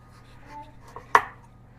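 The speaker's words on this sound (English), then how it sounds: "I'm just going to slice them into maybe about 1/2 inch slices or so." A knife cuts through a cleaned Delicata squash on a board, giving one sharp, close chopping thunk near the end after faint quieter handling sounds.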